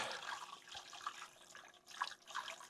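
Water is poured from a measuring cup into the reservoir of an Aerogarden indoor planter, making a soft, steady splashing trickle that swells and fades in short surges, close by but quiet, with no talking.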